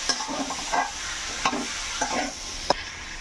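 Ginger-garlic paste is stirred in a frying pan, with a steady low sizzle broken by several distinct spatula scrapes and taps against the pan.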